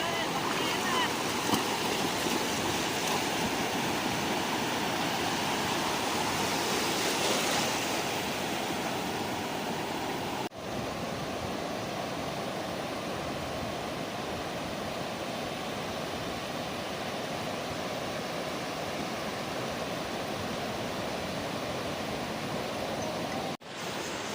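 Sea waves at a Konkan beach near Revdanda: a steady, loud wash of surf that continues without a break and fills the whole stretch.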